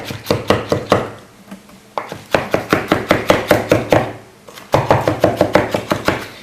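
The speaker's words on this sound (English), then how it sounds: "you're going to want to chop up some garlic" A knife chops garlic cloves finely on a cutting board, rapid sharp knocks in quick regular bursts of eight to ten strokes with brief pauses between runs, close and loud.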